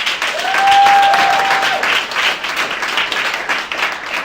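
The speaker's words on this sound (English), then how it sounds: "Give yourselves a round of applause." An audience at an entrepreneurship week pitching event claps in a loud, sustained round of applause with a dense, even patter of many hands.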